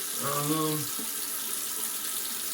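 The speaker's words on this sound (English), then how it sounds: "All right, let me rinse." A bathroom tap runs steadily while someone rinses after a shave with an Arko shave stick, giving a constant close hiss of water. A brief voice sounds near the start.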